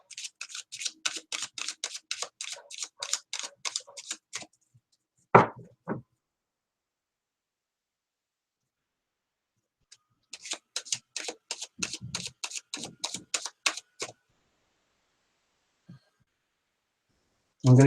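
A deck of tarot cards is shuffled in repeated bursts of quick, crisp riffling and flicking, broken by a couple of sharp knocks and a long quiet gap before the shuffling resumes, close and clear with no talking.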